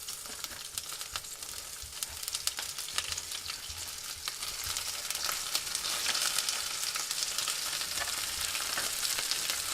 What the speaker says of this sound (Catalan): Ponemos un poco de aceite en la paella y vamos a marcar las gambas a fuego fuerte.